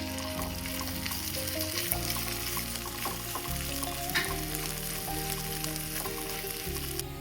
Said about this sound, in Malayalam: ചൂടായ പാനിലേക്ക് 1 സ്പൂൺ നെയ്യ് ഒഴിച്ച് നമ്മുടെ സോസേജിനെ എല്ലാം വറുത്തെടുക്കുക